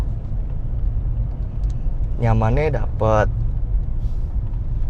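Cabin noise from inside a 2015 Mercedes C250 AMG Line on the move, a smooth low road rumble that holds steady throughout, with a passenger speaking briefly over it midway.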